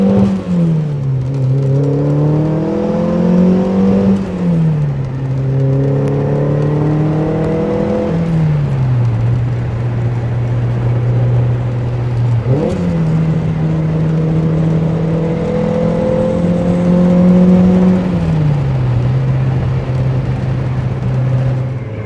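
From the passenger seat of a 1977 Lotus Esprit S1, the engine drones loud and close, rising in pitch through repeated acceleration pulls, dropping between gear changes and climbing again.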